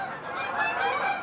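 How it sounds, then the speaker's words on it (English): Geese honk in a short run outdoors, several calls overlapping at moderate distance, with no voices. "You can hear the geese in the background"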